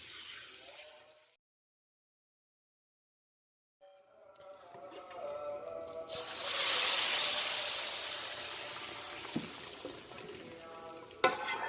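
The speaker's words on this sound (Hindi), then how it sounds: "बस इसे सिर्फ 1 मिनट तक ही इसमें मिर्चों को फ्राई करना है।" Chillies fry in hot oil for dal makhani. After a brief silence, a loud, close, steady sizzle builds and hisses on continuously, with a few light clinks near the end.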